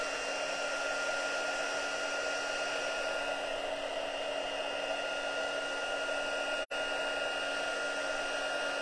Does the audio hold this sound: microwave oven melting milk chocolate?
no